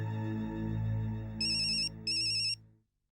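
A phone ringtone plays two bright electronic ringing bursts over a fading low musical tone, then cuts to silence.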